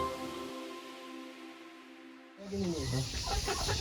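Pet chickens kept on a home setup fed with maggots raised on food waste cluck nearby, a faint tonal bird call at first, then louder clucking and rustling.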